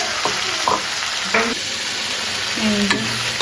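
Spice paste frying in a home kitchen pan, giving a steady close sizzle with a few scraping stirs of a spoon and short clatters, and no one talking.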